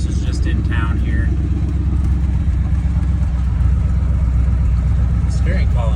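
A 1981 Chevy C10 truck rumbles steadily while driving around town, a loud, low, continuous engine drone heard from inside the cab, with a person talking over it.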